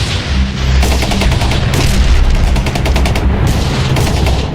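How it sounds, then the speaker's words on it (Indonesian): Rapid bursts of gunfire crack repeatedly, loud and close, with rattling volleys like automatic weapons firing in quick succession. "Bentrokan bersenjata pun pecah di dek kapal dengan suara tembakan yang menggema di lautan lepas"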